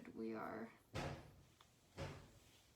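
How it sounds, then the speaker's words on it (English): Doors slam outside in two muffled, distant thuds about a second apart, following a brief voice in a quiet room. "Somebody's slamming doors outside, but that's fine."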